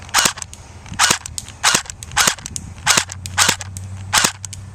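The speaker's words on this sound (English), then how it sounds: "I'll show you me shooting at this tree downrange." An H&K MP7 replica fires seven sharp, snappy shots at a tree downrange outdoors, evenly spaced about half a second apart, each crisp and close, with no talking.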